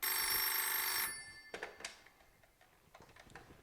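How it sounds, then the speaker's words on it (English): An old-style telephone bell rings loudly and continuously for about a second, then stops, followed by scattered faint clicks and knocks in a quiet room. "Oh, the phone, it's ringing."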